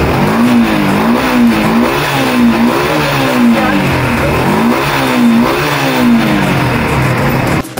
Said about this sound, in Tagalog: maririnig mo na dito kung paano na tumira ng aking makina